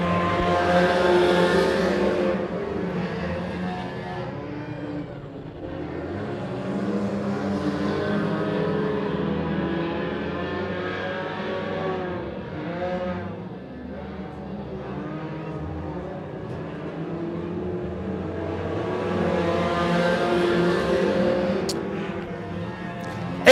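Stock cars roar around a short oval track in a racing field, engines rising and falling in long sweeping waves as cars pass near and recede, loud and continuous throughout.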